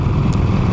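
Low, rumbling engine of a Harley-Davidson Sportster with an Evolution engine while riding, steady and close for a brief moment with a faint wind hiss.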